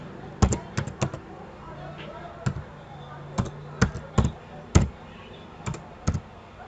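A name typed on a laptop keyboard: sharp individual key clicks in irregular bursts, some quick doubles, close and distinct over a quiet background hum.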